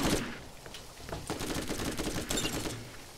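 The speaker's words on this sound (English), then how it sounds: "Because I'm shooting at it." Rapid gunfire in the shooter game Borderlands, a dense stream of sharp shots with brief gaps, moderately loud throughout.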